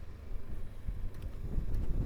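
Steady buffeting wind roar on a motorcycle fitted with a new windscreen, a dense low rumble lasting throughout with no voices.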